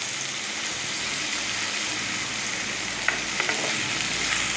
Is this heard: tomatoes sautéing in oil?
yes